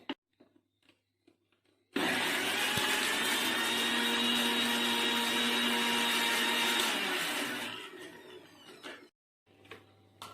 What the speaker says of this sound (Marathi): आता मी ग्राइंड कर